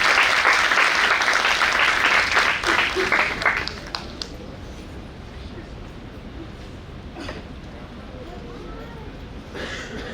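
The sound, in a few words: loud applause for a speaker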